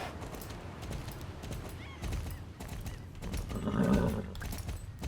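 A slow horse trots along in the video game Star Stable, with rhythmic hoof clip-clops underneath and a whinny rising near the end, all at a fairly quiet level.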